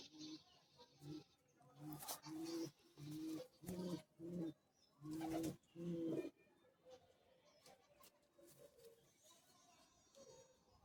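Competition racing pigeons coo in a loft, a run of rhythmic, fairly close throaty bursts in quick succession that gives way to quieter, scattered murmuring.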